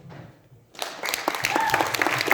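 Audience applause for a film crew on the red carpet of a children's short film festival, starting after a quiet lull and building into dense, steady clapping that carries through to the end.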